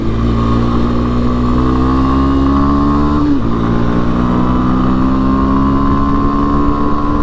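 A Kawasaki KLX230 dual sport motorcycle on stock tires rides hard over gravel, its single-cylinder engine droning loud and steady, with one brief dip in pitch as the rider shifts or eases off before pulling again.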